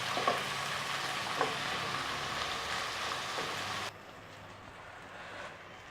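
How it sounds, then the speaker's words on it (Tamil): Curry leaves and vegetables sauté in oil for a brinjal curry, giving a dense, steady hiss like light rain that drops noticeably quieter partway through and continues softer. "கூடவே கொஞ்சம் கறிவேப்பிலை சேர்த்துக்கிறேன். ஸோ இப்போ இதெல்லாமே நல்லா வதங்கணும்."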